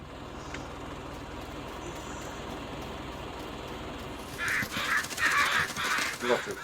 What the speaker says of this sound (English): A lot of crows about.